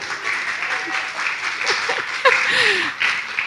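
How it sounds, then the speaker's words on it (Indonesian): Audience applause at a live Indonesian talk show, a broad steady wash of clapping with a few brief tonal sounds and voices mixed underneath. "Tepuk tangan yang lebih kencang dari tadi dong."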